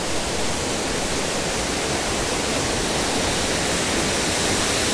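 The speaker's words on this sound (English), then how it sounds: "That's the top tier of Lilydale Falls." The top tier of Lilydale Falls in Tasmania roars as a dense, steady wash of falling water, loud and close with no other sounds.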